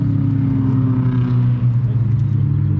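A turbocharged K-Series engine in a ninth-generation Honda Accord, set up for autocross, holds a steady, loud, droning hum close by with no break.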